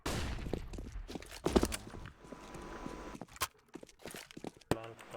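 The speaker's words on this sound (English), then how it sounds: "I'm throwing a flashbang." Flashbang grenade in Counter-Strike: Global Offensive amid busy match audio, with scattered gunfire-like pops and footsteps and a sharp loud burst near the middle, plus a few more impacts later.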